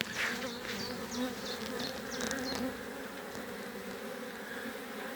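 Honeybees buzz densely at a busy twelve-frame hive during a heavy pollen flow, a steady close swarm drone holding level from start to finish with no voices.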